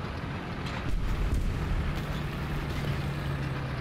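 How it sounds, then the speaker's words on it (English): Distant gunfire and explosions rumble through a War Thunder tank battle, a dense low roar with a few heavier booms in the middle, with no talking over it. "we got major gunfire out that way"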